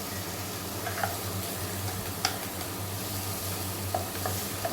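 Chopped tomato fries in an onion base, a constant close sizzle with occasional light ticks of a spatula stirring against the pan.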